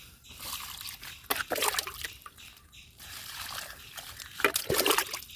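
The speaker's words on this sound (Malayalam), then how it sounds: "എന്നും ഇതേപോലെ നനച്ചു കൊടുക്കുക." Guava saplings being watered in a garden, with water poured onto the soil in two bursts of trickling, splashing flow separated by a short pause. The sound is fairly faint and close.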